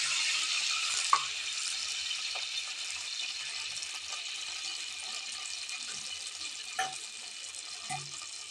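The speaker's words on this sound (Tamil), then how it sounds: "இப்போ நம்ம தண்ணி ஆட் பண்ணிக்கலாம்." Water streams steadily into a pan for javvarisi halwa, a constant close rushing hiss with a few faint clinks of utensils, no talk.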